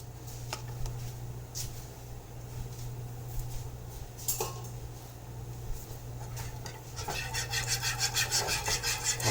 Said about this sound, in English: And scrape it off the spoon there.